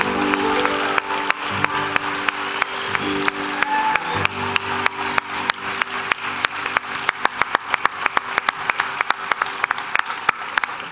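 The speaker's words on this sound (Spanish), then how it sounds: "Un aplauso para ellos, por favor." Applause from a festival crowd at a town fiesta presentation, many people clapping in a steady rhythm that grows sharper and more distinct, with a low background hum and a faint tone under the claps.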